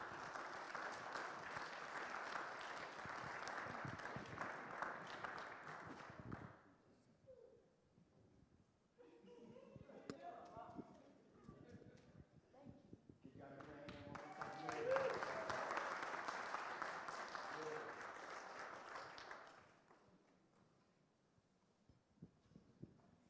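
Two bursts of applause from an audience at a fireside chat, each lasting several seconds, separated by a quieter stretch with some talking; the whole thing sounds somewhat distant.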